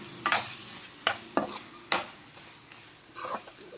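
Chicken liver with chili powder is stirred in a pan, a handful of sharp spoon scrapes and clacks at an uneven rhythm over a faint sizzle.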